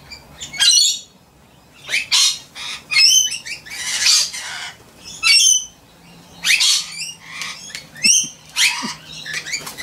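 Rainbow lorikeets and blue-faced honeyeaters squawk and screech at a feeding spot, loud harsh calls coming in rapid overlapping bursts close by with no talking.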